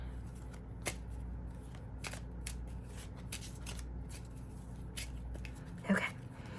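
Tarot cards, only the major arcana, being shuffled by hand close up, a steady soft riffling with repeated light taps and flicks over low background hum.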